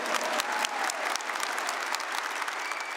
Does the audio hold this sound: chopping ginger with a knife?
no